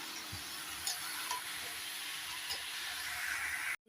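Pieces of green jackfruit, first boiled with salt and turmeric, fry in oil in a pan, making a steady close sizzle and hiss with a few soft knocks before it cuts off abruptly near the end.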